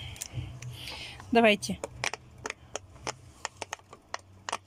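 A pop-it fidget toy is pressed in a quick series of sharp, small clicks at an uneven rhythm, with a brief spoken word near the start.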